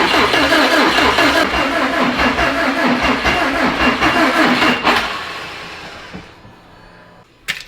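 A Subaru engine cranks on starting fluid, a loud rapid churning starter drone that struggles for about five seconds, then cuts off and fades into quiet, ending with a sharp click.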